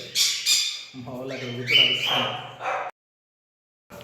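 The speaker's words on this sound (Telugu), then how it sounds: "అన్ని బర్డ్స్ అన్నీ బయటకి వెళ్ళిపోయినాయి అన్నీ భయపడుతున్నాయి ఘోరంగా" Aviary birds squawk loudly in harsh, agitated bursts for a few seconds while frightened during cage cleaning, then fall silent before one more call starts.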